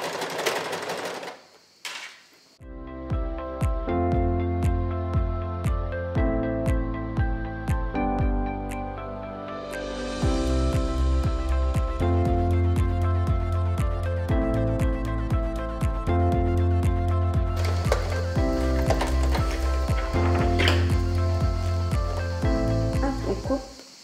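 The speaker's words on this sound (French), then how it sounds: "entre le bord et l'aiguille qui va coudre. Et on y va, on fait nos points avant, arrière." A sewing machine stitches back and forth near the edge of a fabric toiletry bag, with a continuous loud mechanical chatter that runs for most of the clip after a brief start.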